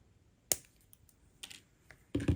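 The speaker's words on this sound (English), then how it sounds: "So we can trim that off" Wire cutters snip jewelry wire while handmade wire-wrapped dangle earrings are made: a few sharp, quiet clicks spaced apart, with a denser clatter at the end.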